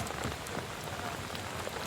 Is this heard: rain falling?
yes